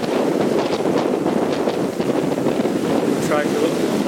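Steady, loud wind roar and rushing water aboard a sailboat running under a double-reefed main and Yankee in a 25-knot east-northeast wind on a passage from French Polynesia to Hawaii, broadband and constant with no pause.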